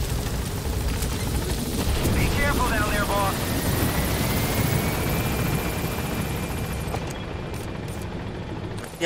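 A helicopter in Metal Gear Solid V: The Phantom Pain drones with a steady rotor whir throughout, loud and continuous, with faint game effects layered over it.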